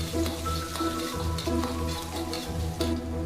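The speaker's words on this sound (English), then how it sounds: "Then add the garlic and a bit of fermented black beans, stir frying evenly until fragrant." Garlic and fermented black beans stir-frying in oil in a wok, a close, continuous sizzle with soft scraping and stirring strokes, no voices.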